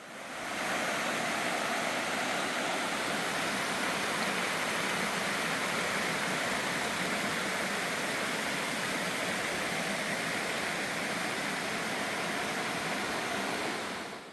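A waterfall in Gwacheon, South Korea, pours with a steady, dense roar of rushing water, constant and unbroken throughout, with no other sounds.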